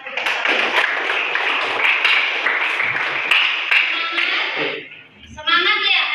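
Classroom applause rings out as a dense, steady patter of many hands clapping for several seconds, fading briefly before a voice speaks as the clapping winds down.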